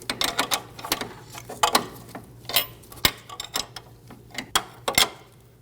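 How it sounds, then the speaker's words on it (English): Tightening the nut on a sway bar link at the front strut of a 2012–2022 Volkswagen Passat, with the stud held by a 5mm Allen key. Close, irregular metallic clicks and ratcheting ticks come in quick clusters. "Hold the stud using a 5mm Allen and snug the nut down."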